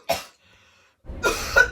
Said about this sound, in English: Men, does nightly coughing keep you up?